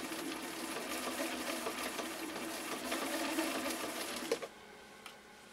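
A Viking 6370 sewing machine runs steadily, stitching a complex rick-rack pattern with wide needle swing, its rapid mechanical whir continuous and close, then it stops abruptly near the end, leaving a brief quiet tail.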